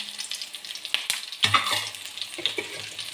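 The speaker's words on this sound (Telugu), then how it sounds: "ఎండుమిర్చి, ధనియాలు, కరివేపాకు, జీలకర్ర వేగినాయండి" Dried red chilies, coriander seeds, cumin and curry leaves fry in hot oil with a continuous sizzle, crackling pops and the clatter of a spoon stirring the pan, close and fairly loud.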